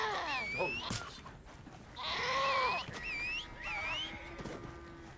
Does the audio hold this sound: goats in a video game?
yes